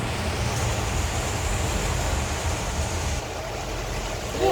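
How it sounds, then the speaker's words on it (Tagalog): Heavy rain and wind during a storm in Malaysia make a dense, steady roaring hiss, loud and unbroken, with a slight drop in intensity partway through. "Lakas talaga ng ulan."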